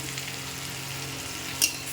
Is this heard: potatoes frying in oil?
yes